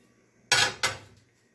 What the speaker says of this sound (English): You will also need a stock pot. This one is 5 quarts,